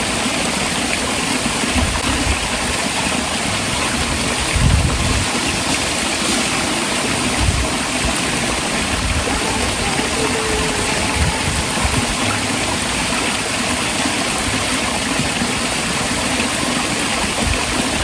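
Na Muang waterfall in Ko Samui pours in a loud, steady broadband rush of falling water that fills the whole stretch without a break, with a few faint low thumps beneath.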